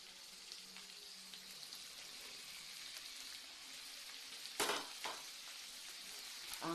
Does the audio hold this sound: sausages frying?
yes